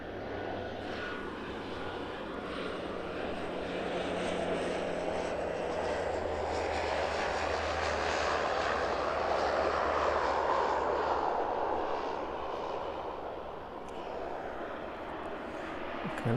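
A plane landing at East Midlands Airport, its engine roar building and swelling to a peak midway before easing off, steady and fairly close, with a low rumble underneath.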